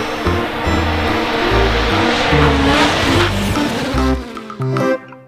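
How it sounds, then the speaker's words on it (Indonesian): A red toy race car gives off loud racing-engine and tire-squeal effects that run steadily for about four seconds, then stutter and cut out near the end. "Wah, mobil balap warna merah."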